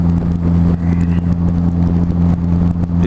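A Harper sports car heading into a race track, its engine giving a loud, steady mid-pitched drone with a strong low hum throughout, no voices.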